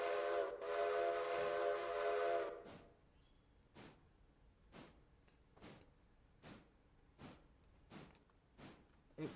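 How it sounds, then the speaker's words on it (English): A steam train whistle blows for about two seconds in Railroader, followed by a steady series of evenly spaced chuffs as the locomotive starts moving, fairly quiet and without talk. "this is the first time we're getting train 1 to move"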